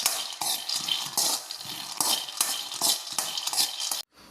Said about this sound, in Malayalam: ഇനി നമുക്കിതിനെ നല്ലോണം വറക്കണം.